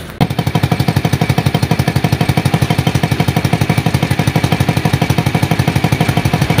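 Small motorcycle engine idling after a carburetor replacement, its exhaust pipe holed, giving a loud, fast, even putter of rapid regular pulses that stays steady and close with no speech over it.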